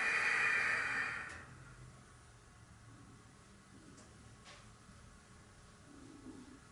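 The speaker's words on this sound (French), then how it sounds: "J'expire." A slow, breathy exhale during yoga breathing, a soft airy hiss lasting about a second before fading into quiet room tone.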